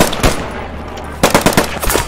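Rapid rifle fire from M1 Garand and Gewehr rifles in the Post Scriptum game, with a single loud shot followed after a pause by a quick burst of several close, punchy shots.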